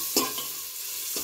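Chopped onion and four garlic cloves frying over a high gas flame while being stirred: a close, steady sizzle marked by two sharp scraping strokes, with no speech.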